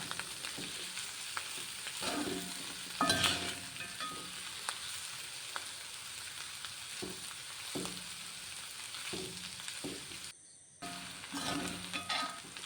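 Cleaned clams fry with masala and pepper in a pan, a steady soft sizzle with occasional stirring scrapes, fairly quiet and with no talk.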